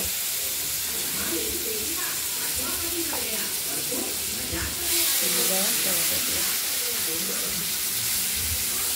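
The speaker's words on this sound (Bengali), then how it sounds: "এই ফোড়নের পর আলুগুলোকে আমরা ভেজে নেব। হালকা হলুদ করে ভেজে নেব।" Potatoes fry in hot oil after a cumin tempering for a Bengali rohu fish curry, giving a steady, close hiss and sizzle that grows louder near the middle, with a voice-like murmur underneath.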